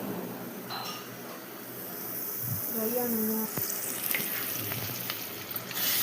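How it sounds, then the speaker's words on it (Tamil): Lung gravy bubbling and drying out in a pan on a medium flame, giving a steady close sizzle with a few soft clinks and stirring sounds. "அது நல்லா கொதி வந்து ட்ரை ஆக ஆரம்பிக்கும்"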